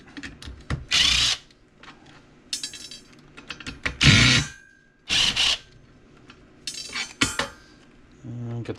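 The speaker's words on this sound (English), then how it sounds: "See if the drill will do this." A power drill whirs in several short, loud bursts close by, removing screws from boards of a marine radio, separated by clinks and clatter of metal and wood between runs.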